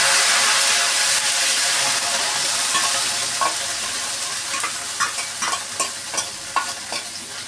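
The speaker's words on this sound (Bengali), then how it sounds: "এখন দিয়ে দেবো পেঁয়াজ আর জিরা বাটা।" Onion and cumin paste frying in hot oil in a kadai for a fish curry, with a steady loud sizzle and intermittent stirring scrapes toward the end.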